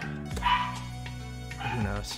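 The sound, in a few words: dog barking in the room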